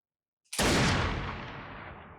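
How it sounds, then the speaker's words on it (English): A single loud gunshot from an episode of the TV series LOST cracks out sharply, then its echo trails away over about a second and a half, with no talk over it. "Did he shoot himself in the shoulder right there?"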